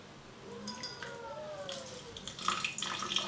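Lemon juice pours and splashes softly into a jug, a faint trickle growing into brighter splashing near the end.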